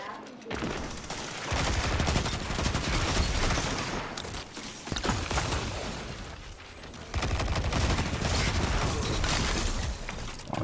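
Sustained, loud automatic gunfire from Destiny 2 Iron Banner player-versus-player combat rattles almost nonstop through the stretch, in dense bursts with brief lulls, mixed with mechanical clatter and impacts.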